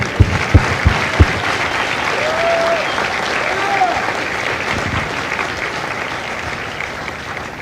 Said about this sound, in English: please join me in a round of applause for the families of my company.